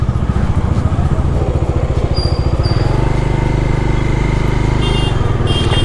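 A new KTM motorcycle passes on a windy mountain road, its engine a loud, steady pulsing drone close by that shifts in pitch partway through, with gusts of wind.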